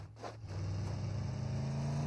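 Buggy engine in PUBG Mobile, a steady low mid-pitched drone held at part throttle, close and continuous after a brief dip at the start.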